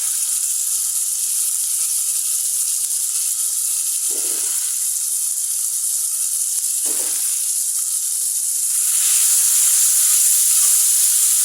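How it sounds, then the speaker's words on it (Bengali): Garlic, ginger and onion fry in a pan with a loud, continuous sizzling hiss that grows slightly louder toward the end. "রসুন আদা পেঁয়াজ একটু ভেজে নিচ্ছি কাঁচা গন্ধটা যেন না থাকে"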